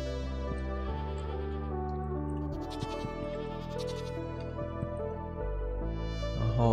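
Sheep bleating in the farming game Stardew Valley, a few drawn-out, nasal calls repeating over a steady soft background music bed, fairly quiet and close.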